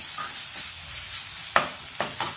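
Ground coriander, cumin and pepper powders stirred and fried in a pan for egg biryani, a faint steady sizzle with a few sharp spoon scrapes against the pan near the end, no talking.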